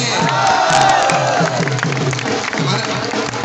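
A crowd claps and cheers loudly and continuously at an exam results celebration, with voices mixed into the dense wash of applause.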